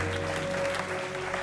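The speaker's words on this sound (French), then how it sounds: "Des applaudissements mitigés" Scattered, lukewarm applause from a French game-show studio audience after a 12,000-euro offer, a steady dense patter of clapping at moderate level with no voices over it.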